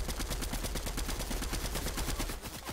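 Rapid automatic gunfire in a video game, a dense unbroken stream of close, loud shots filling the whole moment with no talk.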